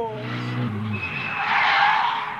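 A rally car is driven hard with its engine revving and tires skidding and scrubbing loudly in a sustained rushing squeal, up close and continuous with no pause.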